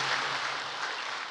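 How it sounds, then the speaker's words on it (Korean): An audience claps at a Korean history lecture event, producing a dense, even burst of applause that holds steady and fairly loud for a short moment. "우리 박수 한번 부탁드리겠습니다"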